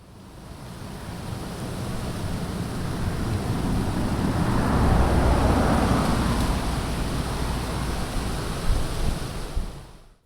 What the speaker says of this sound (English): I couldn't get away from the deafening sound of cars